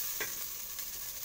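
Ingredients for crab in coconut milk being sautéed in a pan, a brief close sizzle with a quick stirring scrape, no voices.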